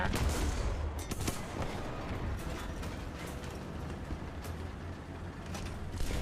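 In War Thunder, a few muffled gunshots go off early, around the Char FCM 2C heavy tank, over a constant dense roar of engine and battle noise. The shots sit at a moderate distance, with no talk.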